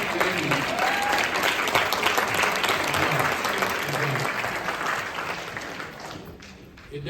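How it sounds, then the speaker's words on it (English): Audience clapping at a summit spotlight panel on i-Ready for Alief ISD, a loud, dense burst of many hands sustained for several seconds before thinning and fading toward the end. "I know we just got through clapping"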